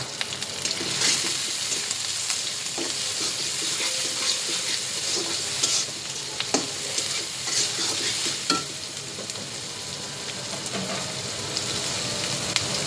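Onions and green chilies fry in hot oil in a home kitchen, a loud, continuous close sizzle broken by repeated spoon scrapes and stirring clicks, with no talk.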